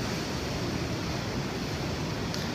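Waves breaking below cliffs on the coast at Sydney, Australia: a steady, broad wash of surf at moderate distance, mixed with wind rush over the microphone, no voices.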